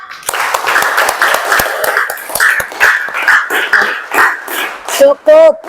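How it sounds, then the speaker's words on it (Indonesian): A class of students in a chemistry lesson claps hands together in a loud rhythmic burst of many sharp claps, with voices chanting near the end. "Tepuk tangan semuanya."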